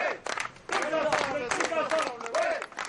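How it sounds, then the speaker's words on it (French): Factory workers clap and cheer as the morning shift leaves a tyre plant, a dense burst of applause mixed with crowd voices that swells and carries on steadily. "Elle sort de l'usine sous les applaudissements des camarades."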